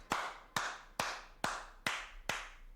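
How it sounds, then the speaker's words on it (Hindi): Six single hand claps, evenly spaced about half a second apart, crisp and close but quiet, with nothing else sounding. "ताली। 5 बार।"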